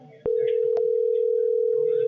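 A phone line tone sounds in the background of a tech support call: a single steady, loud electronic tone starts abruptly and holds without a break, with faint bits of talk and clicks at the start.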